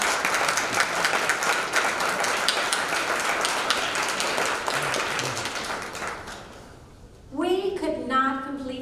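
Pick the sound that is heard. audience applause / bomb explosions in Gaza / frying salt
audience applause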